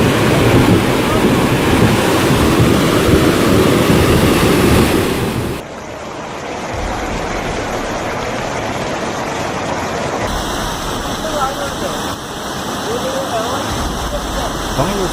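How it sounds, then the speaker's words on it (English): Floodwater roars through downtown streets in Guangxi, a loud, dense rushing wash that drops to a steadier churn after several seconds. "torrents of brown water roaring through downtown streets"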